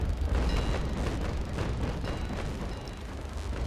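Six-pounder long cannons boom in the naval battle game Naval Action Legends, a dense run of heavy, rumbling blasts that roll into one another at close, steady loudness.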